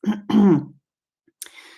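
A person clears their throat twice in quick guttural bursts, close up, followed after a pause by a short breathy exhale.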